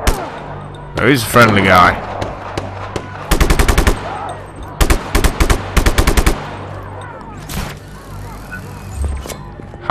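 Rapid bursts of automatic gunfire in Just Cause 3, several loud rattling volleys separated by short pauses, with someone talking over the action.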